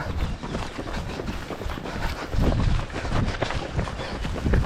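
Wind buffets the microphone during a 12 km running race, the Foulées de Bussy 2025, producing loud, uneven rumbling gusts that swell and ease throughout, with faint footfalls beneath.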